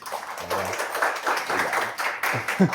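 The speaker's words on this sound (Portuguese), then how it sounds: "salve de palmas aqui para ele, por favor" A studio audience claps for a guest on a talk show, a short burst of fairly close, uneven clapping with some taps and murmuring.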